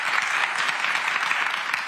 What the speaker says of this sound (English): Y'all can clap for her.